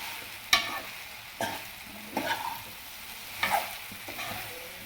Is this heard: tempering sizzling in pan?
yes